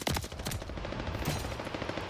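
Rapid automatic gunfire from a Call of Duty Vanguard match on the Champion Hill mode bursts out in a dense, loud rattle of shots that continues without pause.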